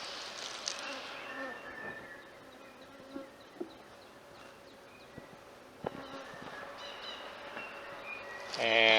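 Honeybees buzz around a hive frame during a colony split with swarm cells, a steady close insect hum with scattered louder buzzes as bees pass near, and a brief rustle at the end.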